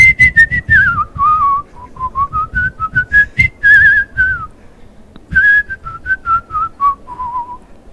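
A man whistling a melody up close, clear pure notes gliding up and down in phrases, loud and alone with brief pauses for breath.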